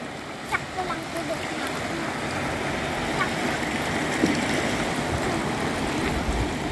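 Sea waves washing onto the beach at Surip, a steady broadband rush of surf with soft irregular swells, moderately distant and continuous, with faint background sounds.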